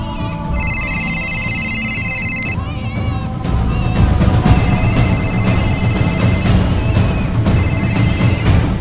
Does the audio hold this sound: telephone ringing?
yes